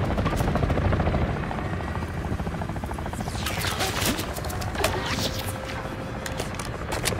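A helicopter in Call of Duty Modern Warfare 3 drones with a steady, loud rotor beat throughout, overlaid by bursts of gunfire and battle noise.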